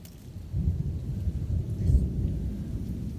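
Thunderstorm outdoors with a low rolling rumble of thunder over steady rain, swelling after a brief pause and lingering near and fairly loud, no talk.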